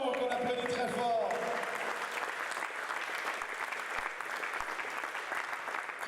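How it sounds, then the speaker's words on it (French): Audience applauding at a men's squash tournament final, loud clapping at first that settles into steady, slightly quieter applause, with a voice briefly heard at the start. "Julien Balbo, qu'on applaudit très fort."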